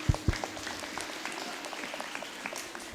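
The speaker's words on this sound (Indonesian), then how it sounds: "Tolong minta aplaus buat Pak Haji Amir Taufan" Audience applause for a foundation board member at an Isra Mi'raj reenactment event in Tegal, a steady patter of clapping from a crowd with a couple of louder claps near the start.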